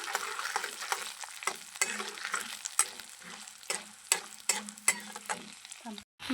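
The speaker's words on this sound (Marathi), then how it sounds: "शेंगदाणे डाळवं छान तळलेले आहेत." Peanuts and roasted chana dal fry in oil for a jowar-flour upma, with a soft constant sizzle and repeated scraping stirs of a spoon against the pan in an uneven rhythm.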